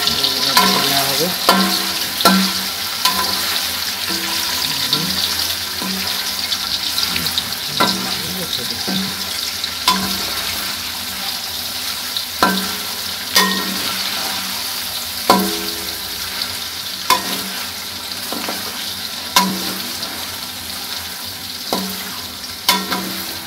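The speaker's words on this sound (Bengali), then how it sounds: "এদিকে পনিরগুলো ভাজা হয়ে যাচ্ছে। দেখুন পনিরগুলা লাল লাল করে ভেজে নিতে হবে।" Paneer pieces fry in hot oil and are stirred. A continuous loud sizzle runs throughout, with repeated clacks of the utensil stirring near the pan.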